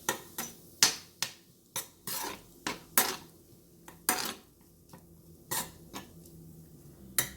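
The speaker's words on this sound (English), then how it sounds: "And give a good stir." Rice mixed with lime juice being stirred with a metal spoon in a pot, giving a steady series of distinct scraping clinks roughly every half second, close and clear with no talk.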